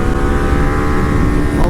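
A 2010 Ducati 848 motorcycle engine revving hard toward 8,000 RPM, a loud, steady, dense mechanical roar held throughout with strong low rumble and a layered harmonic whine, no talk over it.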